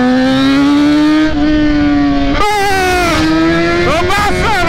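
A motorcycle rides past with a loud, close engine note that climbs and shifts pitch as it revs through gears, with voices heard briefly under it.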